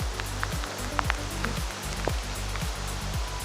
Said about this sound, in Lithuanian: Pradėjo gan stipriai lyti.